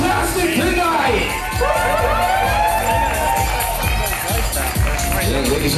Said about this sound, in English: a huge round of applause for our bride and groom